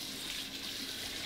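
Tap water runs over sliced lotus root as it is rinsed in a sink to wash off the starch, a steady, close, even hiss with no voices.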